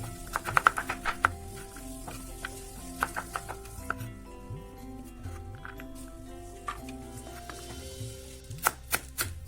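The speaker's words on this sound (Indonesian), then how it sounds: "Wortel juga dirajang halus, tidak terlalu kasar dan tidak terlalu halus." A knife chops a single carrot finely on a cutting board in a steady run of crisp taps, with short pauses between bursts and quiet background tones underneath.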